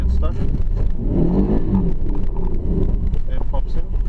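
An Alfa Romeo 146 with a boxer engine, its clutch sticking halfway, revs with a loud, close, rumbling engine note under heavy wind noise on the microphone, and someone talks over it.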